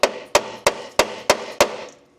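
Six sharp, evenly spaced metal strikes as a hammer drives a standard-size socket onto a stripped metric fender bolt on a Jeep TJ, each hit ringing briefly before the next, close and loud.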